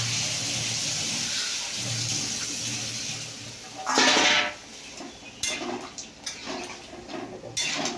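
Water poured into a curry cooking in a pan, a short loud splashing gush standing out from a quieter kitchen background, followed by lighter clinks and stirring sounds.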